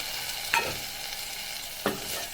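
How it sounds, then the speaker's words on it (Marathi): Boiled raw banana stirred into fried masala with onion in a pan, giving two short scraping stirs against a soft steady sizzle, close and moderately quiet. "आता हे व्यवस्थित मिक्स करून घ्यायचं म्हणजे केळांना मसाला लागेल"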